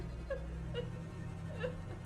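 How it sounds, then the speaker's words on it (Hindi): A woman cries somewhere on a lonely village road in a horror tale. Soft, faint whimpering sobs rise and fall in a few short wavering bursts over a low background hum. "रास्ते में फिर से किसी औरत के रोने की आवाज आती है।"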